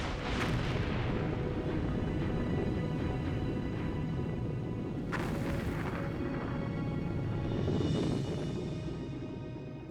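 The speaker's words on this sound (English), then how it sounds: "Just south of Iceland, fishermen report explosions." Deep, rumbling volcanic explosions from the 1963 Surtsey eruption off southern Iceland roll continuously, with a couple of sharper blasts breaking through the heavy low roar.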